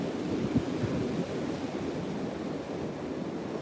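Wind roars steadily across a Virginia beach, a dense broadband rush with low buffeting against the microphone that stays constant throughout, with no voices.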